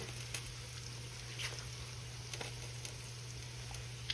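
Hot water cornbread patties mixed with lard and cracklings fry in a skillet with a soft, steady sizzle and faint crackles, low-level and continuous with a constant background hum and no voices.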